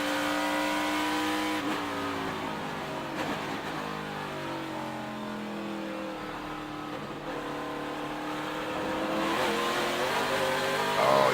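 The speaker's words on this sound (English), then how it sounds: "Let's listen to him as he goes up through the gears and brakes for this tough turn 1" A NASCAR Camping World Truck Series race truck's engine revs loudly and climbs through several gear changes, then drops in pitch as it brakes for turn 1 at Watkins Glen, continuous and close throughout.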